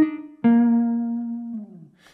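A Sample Modeling virtual saxophone plays a short note and then a sustained tone on full vibrato samples, a clean solo line that fades out after about a second and a half.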